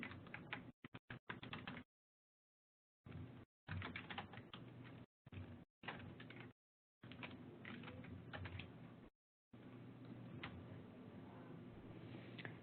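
A course code is typed on a computer keyboard in quick bursts of clicking keystrokes separated by short silent gaps, close and clear with no talking.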